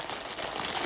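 A plastic pack of Korean spicy Jin Ramen noodles crinkles and crackles as it is torn open, a loud, close, brief burst of rustling.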